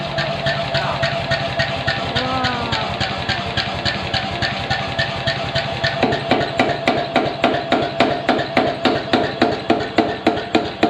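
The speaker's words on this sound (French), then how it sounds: "je le voyais tout à l'heure taper sur son bout de métal" Metal being hammered in a Vietnamese knife-making workshop, a steady run of close, loud, evenly spaced strikes that grow sharper and more ringing in the second half, over a constant engine-like hum.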